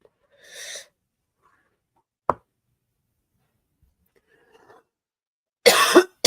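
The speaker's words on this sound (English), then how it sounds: "Now, I just coughed" A cough rings out in an otherwise quiet room: a soft breathy burst early on, a sharp single click in the middle, then one loud, harsh cough near the end.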